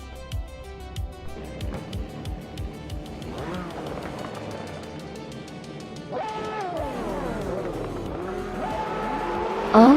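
Race cars launch at the start of a video game race on the Enneagussa track, with a 2012 BMW M6 on pole: several engines rev and rise through the gears together, loud and close with brief tire squeal.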